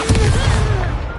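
Expulso spell blast in a Harry Potter wizard dueling game, a loud booming burst with a rumbling low rush that trails off quickly.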